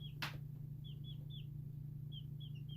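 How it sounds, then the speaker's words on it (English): Small high chirps from baby chicks repeat in quick clusters over a steady low hum, with one brief sharp click near the start. "Lots of peeping from you."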